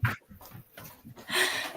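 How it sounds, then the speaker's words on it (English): Dogs pant rapidly in short rhythmic breaths while chasing someone up a staircase, close and fairly loud, with a louder burst of movement noise near the end. "I'm going to be chased by dogs."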